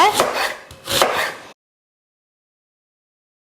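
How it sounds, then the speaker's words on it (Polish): Half a large onion being diced on a cutting board: two bursts of close, crisp knife chopping in quick succession, then silence. "Cebulę pokroję w kostkę."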